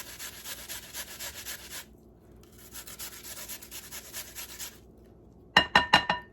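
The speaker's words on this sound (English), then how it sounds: "I'm going to continue to grate this" Food being grated by hand for breakfast cookie batter: steady rhythmic rasping strokes in two runs separated by a short pause, then a few sharper, louder scrapes at the end, close and with no talking.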